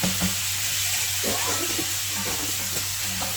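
Chopped tomatoes hit a hot pan of masala for hamour fish majboos, bringing a steady, close sizzle and hiss with light stirring scrapes throughout and no talking.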